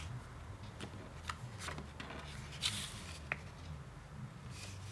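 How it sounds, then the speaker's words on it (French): Ribbon being threaded through punched holes in a handmade paper notebook cover, giving faint papery rustles and soft scratchy pulls at close range, quiet and intermittent. "je passe le ruban dans un trou d'un côté, je le ressors de l'autre, et après je fais un nœud"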